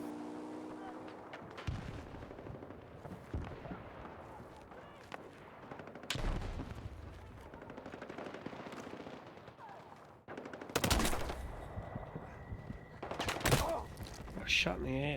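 Gunfire in Battlefield 6, sustained bursts of rapid automatic fire and sharp single shots, close and loud, with talking between volleys.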